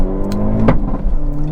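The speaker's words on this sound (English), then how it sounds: "Pretty brutal axle shudder from the beginning, but good acceleration and nice acceleration and nice snarl from the exhaust too." A 2022 Hyundai Elantra N with a turbocharged engine accelerates hard from low revs, its exhaust rising in a loud, close snarl with a brief shudder and a sharp burst partway through.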